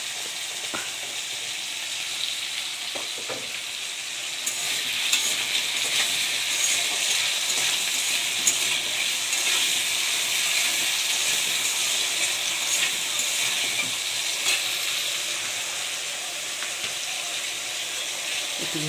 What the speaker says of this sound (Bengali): একটু ভেজে নেবো আলুগুলোকে